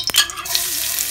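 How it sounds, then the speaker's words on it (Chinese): Garlic dropped into moderately hot oil in a wok gives a sudden bright sizzle with a few crackling pops, then settles into a steady close frying hiss. "热锅放油， 油烧6分热，放入大蒜，"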